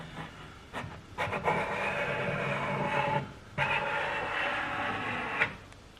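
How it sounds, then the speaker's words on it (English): A scraper drags over a mid-century Lane Acclaim table coated in chemical stripper, lifting the old finish in long raspy strokes that repeat in bursts with short pauses, close and fairly loud. "Let's go ahead with the scraper and see if this actually takes anything off"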